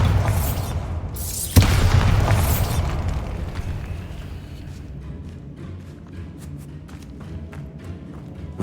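A Bombarda blasting spell goes off inside a tomb in Hogwarts Legacy: one loud, sharp boom, with a softer burst just before it, fading into a low rumbling tail and quiet ambience.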